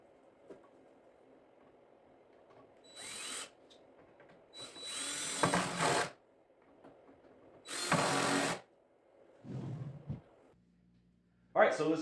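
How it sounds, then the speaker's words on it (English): A power drill boring holes with a brad point bit while building a bank of drawers, several separate whirring bursts of a second or so, with a voice talking between them. "I use these brad point drill bits so that that point of the bit will fit right in that hole that I just made"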